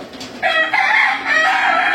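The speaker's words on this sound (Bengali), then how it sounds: "এই যে বিশাল সাইজের একটা মুরগি।" A large hen of about 2.5 kilograms crows and clucks loudly at close range, a strained, raspy call that starts abruptly and runs on in drawn-out bursts with no voices.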